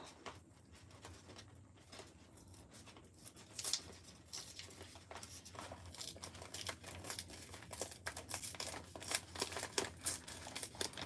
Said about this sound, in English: So I want to open up this envelope.